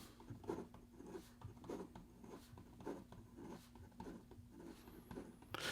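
Fast writing with a Tactile Turn GT pen fitted with a G2 gel refill: quick, soft scratchy strokes in an irregular stream, close and fairly faint, with no talking.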